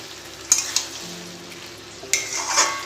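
Chicken pieces being stirred into sauce in a pan, a few scraping, clattering strokes of a spoon against the pan over a quiet, steady background.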